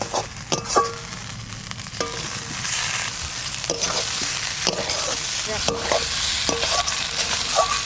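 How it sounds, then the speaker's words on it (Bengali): Potatoes fry in a pan with ground spice paste, a close hissing sizzle broken by repeated sharp scrapes and knocks of a spoon stirring, several distinct strokes across a few seconds. "মশলাটা ভাজা হয়ে গেছে। এবার আলুটা দিব।"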